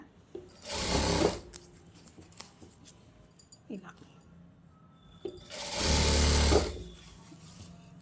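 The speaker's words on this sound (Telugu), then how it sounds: "ఇలా మొత్తం స్టిచ్ చేసుకుంటూ వచ్చి" A sewing machine stitches fabric, likely a child's garment with elastic, in two loud sustained bursts of running needle, separated by quieter handling sounds and brief clicks.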